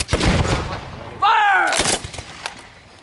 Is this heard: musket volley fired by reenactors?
yes